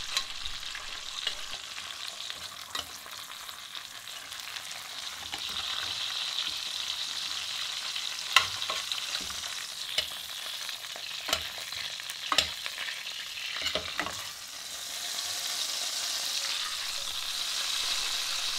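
Duck breast sears in a pan, its thick edge stood upright to finish cooking, giving a steady close sizzle and frying hiss with occasional louder pops and crackles throughout, no voices.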